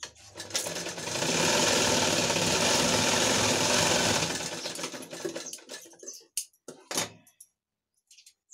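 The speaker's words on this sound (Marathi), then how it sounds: "अस्तरवरती एक दाबटीप देऊन घ्यायची" Sewing machine running a stitch along a blouse lining, a loud close mechanical whir for several seconds that slows and stops, followed by a few scattered knocks and handling thumps.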